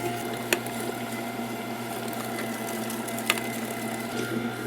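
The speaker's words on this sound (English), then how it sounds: "while I'm grinding the meat through, I also add the peppers and grind them through at the same time" An electric meat grinder hums steadily as it grinds sausage meat and peppers, a low continuous motor drone with faint mechanical churning and two brief sharp clicks.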